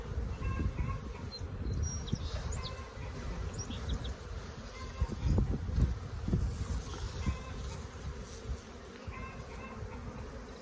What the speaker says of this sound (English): Check those bees in there.